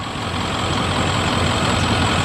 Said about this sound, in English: 1995 Ford F350 XLT, single wheel, crew cab, long bed,